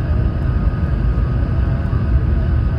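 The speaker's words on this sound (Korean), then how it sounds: "점점점 비행기가 하강을 하고 있습니다" From inside the cabin, an airliner descends toward Gimpo Airport with a constant, loud, deep engine and airflow roar that stays even from start to finish.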